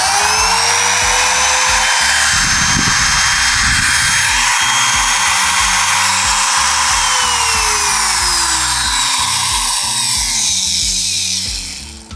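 A Mollar ET3701 6 mm wood trimmer mini router runs continuously, a loud steady high whine with a rumbling motor drone beneath it, briefly pitching up and down mid-run before winding off at the end.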